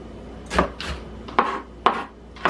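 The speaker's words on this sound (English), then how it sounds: "And you just keep chopping it until it gets small, okay?" A knife chops an onion steadily on a cutting board, sharp knocks every half second or so, close by with no talk.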